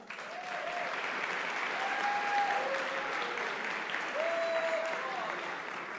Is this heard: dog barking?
no